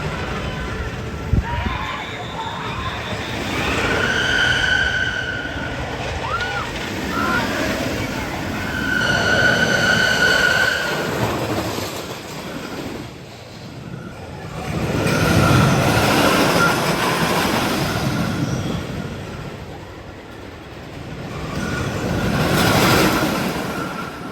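An RMC roller coaster train, Mind Blower, rumbles along its retracked steel track with a broad, rolling roar that swells and fades, with a few higher squealing tones from the wheels, heard from nearby without talk.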